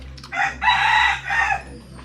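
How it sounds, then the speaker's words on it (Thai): A rooster crows once, a clear drawn-out call at moderate distance, over a steady low hum, at a wedding held in a longan orchard in a Thai village. "ฟังเสียงไก่ขัน"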